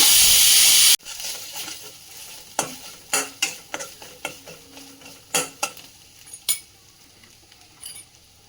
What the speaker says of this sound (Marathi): अर्धा चमचा धनिया पावडर घालूया आणि छान मिक्स करून घेऊया